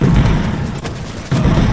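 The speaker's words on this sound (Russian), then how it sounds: "Теперь взрывы гораздо быстрее происходят" Grenade blasts in Quake Champions, a run of heavy booming bursts with a brief dip before another loud explosion hits.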